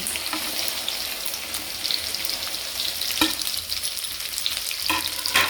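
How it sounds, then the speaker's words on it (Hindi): Okra fries in a pan with a dense, crackling sizzle, close and steady, with occasional clinks of a stirring utensil and no voices. "अब इसमें मैं भिंडी ऐड कर रही हूँ, भिंडी फ्राई कर रही हूँ"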